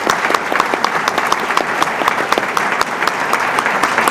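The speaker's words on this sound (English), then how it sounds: "We want to recognize you with a round of applause." Loud, sustained applause from a gala audience recognizing sponsors, dense and steady clapping close by with no talk over it.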